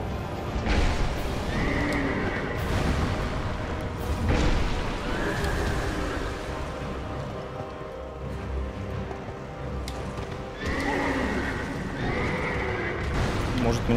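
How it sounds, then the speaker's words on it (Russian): Horse enemy in Dark Souls 2 whinnies repeatedly between heavy galloping hoofbeats and impact thuds, loud and close, with several distinct neighs spread across the stretch of busy game noise. "Лошадь достаточно проблематичный противник."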